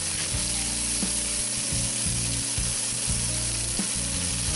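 Diced pancetta fries in a pan, rendering its fat with a loud, constant sizzle and crackle and occasional stirring scrapes, with no talking.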